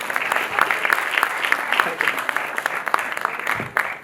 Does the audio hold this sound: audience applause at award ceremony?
yes